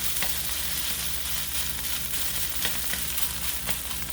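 Chicken and broccoli stir-fry for a Chinese dish, kept constantly moving in a hot pan, gives a steady, close sizzle with soft scraping and tossing throughout, all under a low, even hum.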